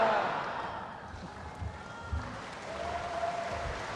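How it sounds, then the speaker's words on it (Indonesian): Crowd at the PDI Perjuangan national working meeting (Rakernas IV) applauding after Megawati's political speech; the clapping is loudest at the start, then thins and fades while a voice talks and low thumps come through. "Kita beri tepuk tangan yang paling meriah hadirin sekalian."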